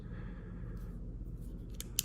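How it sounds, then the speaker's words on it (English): Scissors snip a few times trimming a cork strip over a low, steady background hum, with one sharp, crisp cut standing out near the end. "you can simply trim the corners with a sharp pair of scissors"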